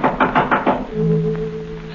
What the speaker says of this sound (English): someone knocked at the front door.